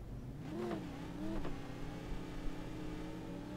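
A car in True Crime: New York City revs and accelerates while drifting, two quick rising engine swells followed by a steady running engine drone, moderately loud with no talk.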